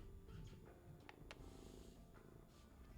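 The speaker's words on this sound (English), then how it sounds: "she's purring" A very small seven-pound house cat purring close by, a soft continuous low rumble with faint room noise and no talk over it.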